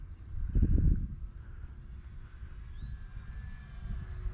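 An FMS Skytrainer 182 foam radio-controlled airplane flying downwind at about half throttle, a faint distant whining motor drone over wind rumble, with a brief louder gust near the start.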